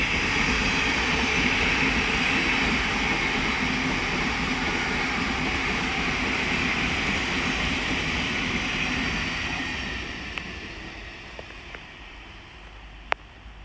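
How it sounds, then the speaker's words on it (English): A Thameslink Class 700 electric train runs past on the Midland Main Line at Elstow, a loud sustained rushing roar that gradually fades as it goes, with a few faint clicks near the end. "The next train to pass by is the Thameslink Class 700 from Three Bridges to Bedford."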